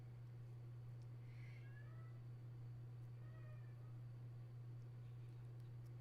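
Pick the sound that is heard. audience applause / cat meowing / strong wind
cat meowing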